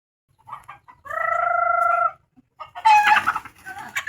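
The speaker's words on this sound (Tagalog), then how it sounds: "sobrang lilikot ng mga manok na yan" Chickens clucking close by, with short calls, a drawn-out squawk in the middle, then a burst of agitated overlapping clucks.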